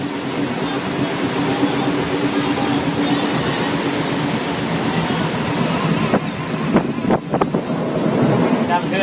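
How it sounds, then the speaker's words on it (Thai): Heavy, steady rain roaring and splashing into a train cab, with a few sharper knocks and rattles toward the end. "ก็นั่งไม่ได้ฝนก็สาด"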